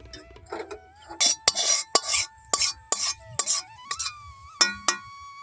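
Turmeric dry-roasting in a kadai is stirred with a spatula, giving about eight rhythmic, close scraping strokes, each a short gritty sweep, over a faint steady hum.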